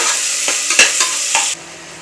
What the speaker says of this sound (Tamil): அப்புறம் கொஞ்சம் சின்ன வெங்காயமும் பச்சை மிளகா, பெரிய வெங்காயம் மிக்ஸ் பண்ணி அதை போட்டு வதக்கணும்.